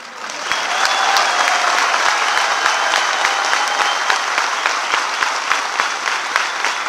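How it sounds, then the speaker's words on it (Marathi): An audience at a political speech applauds, a dense burst of clapping that rises quickly and holds steady for several seconds, close and loud. "आता टाळ्या कमी का वाजवल्या?"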